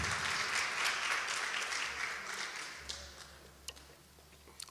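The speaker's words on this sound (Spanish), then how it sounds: "¿Qué tal si damos un aplauso de alabanza al Señor por este tremendo equipo" A church congregation breaks into applause in praise, dense clapping that is loud at first and then gradually thins and fades, with a few scattered late claps toward the end.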